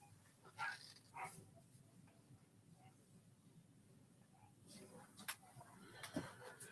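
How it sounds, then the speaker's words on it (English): A dog barks and yips faintly in the distance indoors, a few short scattered bursts against quiet room tone, with some talking in the background. "The dog's just barking."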